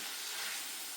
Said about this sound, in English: the lamb and the spices have been frying away there for a good 5-6 minutes on a high heat